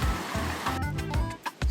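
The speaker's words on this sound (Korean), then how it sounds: "시원한 물소리가 울립니다." A mountain stream runs through a valley beside the path up to Donghaksa temple on Gyeryongsan, a steady close rushing and splashing wash of water with short gaps.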